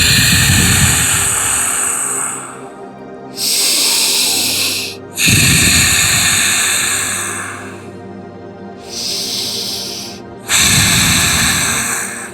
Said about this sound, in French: vous faites encore une bonne respiration profonde